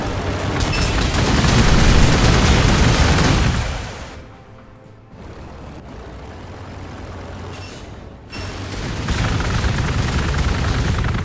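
Bolter fire in the Warhammer 40,000: Gladius strategy game, dense rattling bursts of gunfire that fade to a quieter stretch before another loud volley builds, with no talking.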